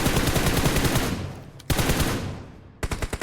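Rapid bursts of automatic gunfire in the mobile battle-royale game PUBG Mobile, a loud sustained volley that fades, then a sharp shot and a final quick burst of separate cracks.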